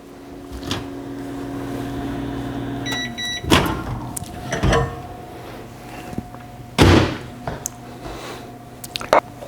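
A microwave oven hums steadily while melting butter, with a brief series of beeps near the three-second mark and several loud thunks and clicks, like a door or dish being handled, toward the end.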